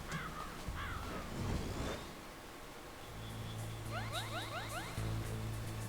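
A raven in the video game Metal Gear Solid caws a few times near the start, loud and close, with game sound effects and a steady tone filling the rest.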